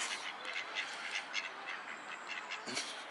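A duck quacks at a park lake in spring, a few brief calls over steady outdoor ambience with light bird activity in the background.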